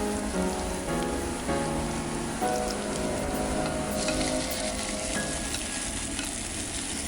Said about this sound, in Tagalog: medyo igigisa lang natin to ng konti, no? Saglit lang din to.